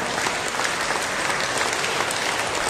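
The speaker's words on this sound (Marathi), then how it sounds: "जोरदार टाळ्या." Steady audience applause at a church service, dense and even throughout, a packed room clapping loudly with no break or voices on top.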